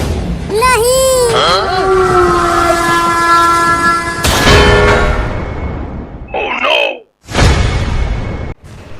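Cartoon trains running with their horns blaring: a warbling whistle sweep opens into a long, steady horn over rumbling clatter. Abrupt crash-like bursts and a short squealing noise follow, with a brief near-silent gap before the rumble returns.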